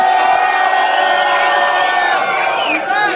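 A loud crowd cheers and whoops, voices overlapping in a sustained roar with a few higher shouts rising near the end.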